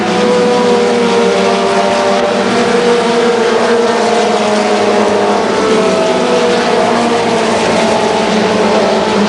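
Mini stock race cars at Columbus Motor Speedway in 1990, a loud continuous roar of several engines racing together, steady and dense with no talk over it.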